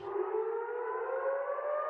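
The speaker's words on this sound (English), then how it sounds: "warning sirens echoing through Bethlehem" Civil defense warning siren wailing across Bethlehem in the West Bank, a steady sustained tone rising slightly in pitch, loud and continuous throughout with no voices.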